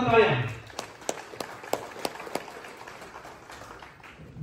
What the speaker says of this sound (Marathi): साजनजी ओळकर यांच्यासाठी एकदा जोरदार टाळ्या